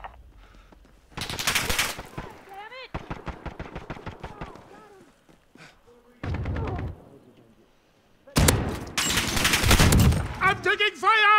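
Bursts of rapid automatic gunfire in Call of Duty: Modern Warfare (2019) hardcore domination, with sharp single shots and dense rattling volleys separated by quiet gaps, close and loud, and brief in-game voices between them.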